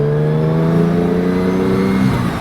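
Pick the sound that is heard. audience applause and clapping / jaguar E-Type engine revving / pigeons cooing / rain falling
jaguar E-Type engine revving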